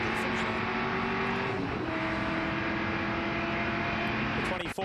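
The Team Highlander Corvette race car runs at the 24 Hours of Daytona as a loud, sustained engine drone with steady pitch, a track announcer talking over it.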